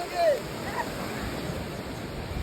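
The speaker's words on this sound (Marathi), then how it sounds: "बघा ह्या लाटा किती मस्तपैकी सुंदर प्रकारच्या अशा लाटा आहेत" Ocean surf washes onto a Goa beach as a steady, broad rush of breaking waves, with a slightly stronger swell near the start and a light wind texture throughout.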